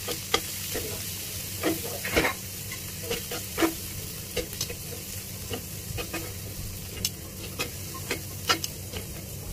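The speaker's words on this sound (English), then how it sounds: "the vegetable has been pre-boiled, pre-scalded, so you don't have to fry too long." Pre-boiled asparagus fries in butter and garlic, giving a continuous close sizzle broken by frequent short stirring scrapes and clicks of the utensil against the pan.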